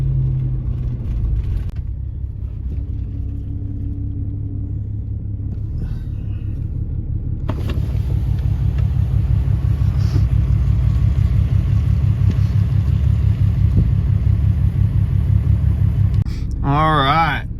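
Pickup truck engine during a burnout attempt, a loud deep rumble that idles and then rises into a sustained revving drone for several seconds, with a voice speaking near the end.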